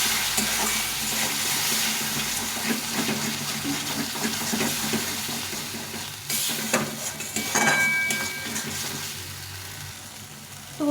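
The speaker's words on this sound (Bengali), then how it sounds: "এক চামচ মতো কাশ্মীরি লঙ্কা গুঁড়ো এটা দিলে কালারটা খুব ভালো আসে দিয়ে এটাকে ভালো করে ভেজে নেবো" A spiced masala with Kashmiri chili powder fries in a pan for a fish curry, its constant sizzle overlaid by scraping spoon strokes and clatter, with a brief burst of water sounds partway through.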